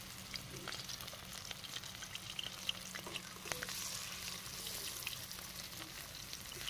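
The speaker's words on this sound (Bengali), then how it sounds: "মাছটা ভেজে নেব একে একে" Pieces of tuna fish frying in mustard oil in a wok, giving a steady, fairly quiet sizzle with soft crackles and light stirring clicks and no voices.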